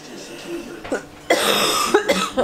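Several harsh coughs burst out close by, a short one first and then a longer, louder fit of rough hacking.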